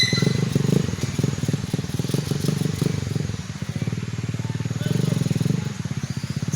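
Motorcycle engines labouring on a muddy landslide-damaged road in Lingig, Surigao del Sur, a rough pulsing putter that revs and strains, fairly close, continuing throughout with some clattering.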